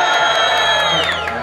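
An audience at a DJ battle final roars and whoops for a DJ. The cheering is dense and loud, sustained for the whole moment, with scattered shouts rising above the crowd noise.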